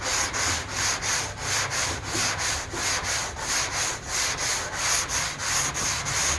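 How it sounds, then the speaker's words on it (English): Steady back-and-forth rasp of a sanding block with sandpaper worked across the hood of a 1970 Chevelle, rhythmic strokes repeating about every half second, close and continuous with no talking. "Let the sandpaper do the work."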